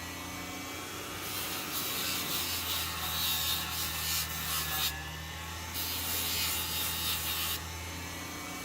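Small parts from a Kato GP35 model locomotive being scrubbed with a cleaning tool, giving close, steady rubbing and scraping in a few sustained bursts over a low background hum, with no voices.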